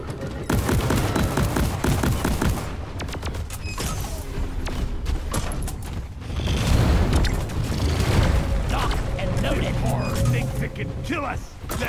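Rapid gunfire and booming impacts from the first-person co-op mining shooter Deep Rock Galactic, dense and continuous with creaking mechanical noises, loud throughout under shouted player voices.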